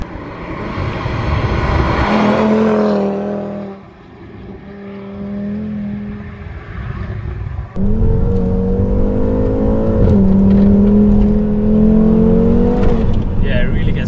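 A 516 bhp Audi RS3's engine revs hard and close, its note rising through strong pulls with a brief dip between gears, while people talk over the drone.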